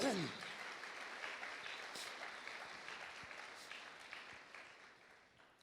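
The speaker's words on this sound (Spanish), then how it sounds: "Aplauda o nome do Senhor." A church congregation claps for the name of the Lord, a faint, steady spread of applause that carries on under the room's echo throughout.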